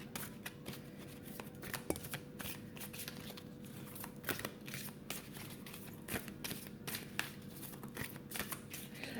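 Tarot cards being shuffled by hand during a reading, a close, continuous papery riffling and shuffling with small rhythmic slaps and flicks, faint and steady with no talking.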